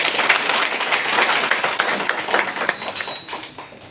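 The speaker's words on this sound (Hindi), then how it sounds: "आप सभी अपने लिए जोरदार तालियां बजाइए" Loud, dense applause from a meeting audience, sustained clapping filling the room steadily from start to finish with no voices over it.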